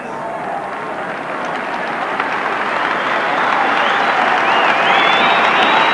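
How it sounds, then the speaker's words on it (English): Rugby league crowd at a Wigan versus Leeds match applauding Gary Connolly as he leaves the field: a dense, steady roar of clapping and cheering that swells gradually louder, with a voice talking over it. "Gary Connolly coming off to rousing applause after an outstanding game"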